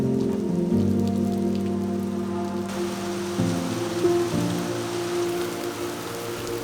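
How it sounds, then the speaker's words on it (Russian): Steady rain pattering down on a surface, a continuous close hiss and patter with a low drone underneath, no voices. "Дождь идет."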